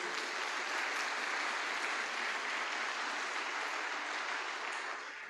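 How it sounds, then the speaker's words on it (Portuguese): A congregation at an online church service claps in a steady, even wash of applause that stays at a moderate level and begins to taper off near the end. "Dê um forte aplauso ao Senhor Jesus."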